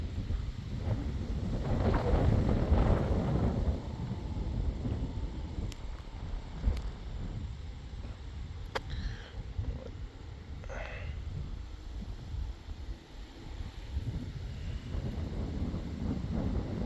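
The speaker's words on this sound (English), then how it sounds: "A little breezy." Steady wind buffets the microphone outdoors on a breezy, sunny autumn day near a dike. It rumbles throughout and is strongest early on, with a few faint clicks and no voices.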